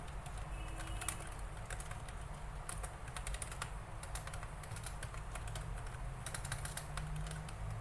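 Computer keyboard typing while PHP code is written, with scattered key clicks over a steady low hum and some bird cooing in the background, moderately faint.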